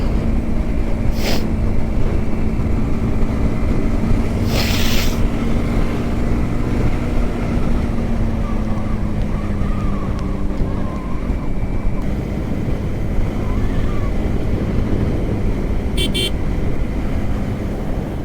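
A Yamaha R15M motorcycle rides toward Haridwar with a steady, loud engine drone blended with rushing wind and road noise, unbroken for the whole stretch, while a few brief sharp noises stand out.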